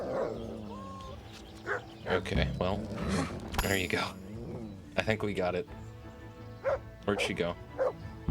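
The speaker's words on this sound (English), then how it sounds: "That was a dog." A dog barks and yips in Kingdom Come: Deliverance, a few sharp nearby barks mixed with someone talking over them and other game sounds.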